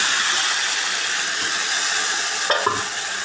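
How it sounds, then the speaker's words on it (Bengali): Marinated meat going into hot oil with browned onions in a pot for biryani gives a steady, close frying hiss, with a brief sharper sizzle and stir late on. "ম্যারিনেট করা মাংসগুলো দিয়ে দিই"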